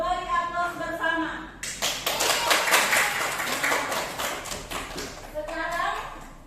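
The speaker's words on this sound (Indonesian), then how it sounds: "Kita beri aplaus bersama" A class of young pupils claps together in a schoolroom, a dense, steady round of applause lasting several seconds, with a voice speaking before and after it.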